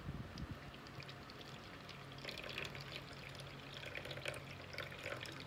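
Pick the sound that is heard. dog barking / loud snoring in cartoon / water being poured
water being poured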